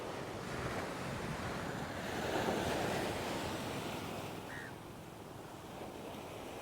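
Sea waves wash continuously onto the shore at Kalmunai, a steady roaring surf with gusty wind buffeting the microphone and no voices.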